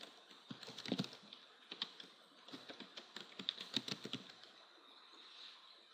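Rapid keystrokes on a computer keyboard as a username and password are entered, irregular clicky taps in quick bursts, close and fairly quiet, with a brief pause before a final few presses.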